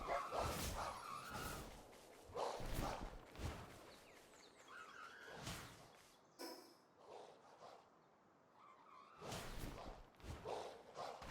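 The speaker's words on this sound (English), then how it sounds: "These barks do not suit this creature at all." Small creature barking in the Palworld video game: several sharp yips and barks come in bursts with short gaps between, near and fairly loud over a quiet game background.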